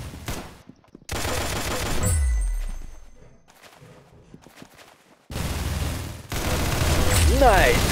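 Bursts of gunfire in the Roblox shooter Arsenal, with loud rapid shots in clusters separated by short quiet gaps, and no talk over them.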